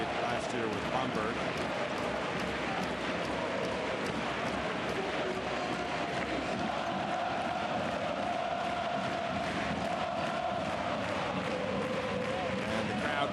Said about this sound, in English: And the crowd going crazy.